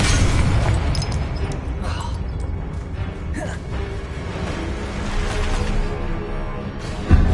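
The Confringo explosion spell in the video game Hogwarts Legacy makes loud booming blasts that sit inside a dense, continuous wash of battle effects and game sound.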